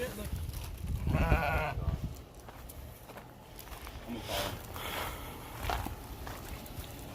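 Goats bleat in a short, wavering burst near the start, then quieter bleats surface amid people talking and moving around on a farm.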